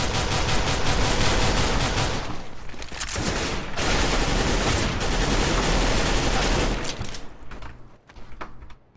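Dense, continuous bursts of video game gunfire fill most of the stretch, loud and close, with brief gaps near the three-second mark before trailing off into scattered shots at the end.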